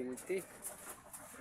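Soft cooing of racing pigeons in the background, low and muffled, with quiet ambient noise around it.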